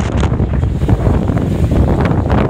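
Strong wind roars steadily across the microphone aboard a sailboat at night, close and loud, with water and hull noise rumbling beneath and no voices.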